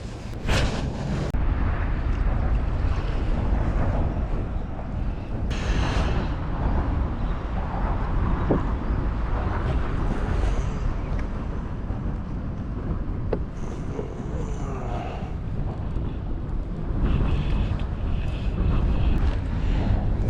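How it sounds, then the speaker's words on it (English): Strong wind buffets the microphone on a boat on the Lane Cove River during flathead fishing, a steady loud rumbling roar with gusts throughout and no talk. "So much wind."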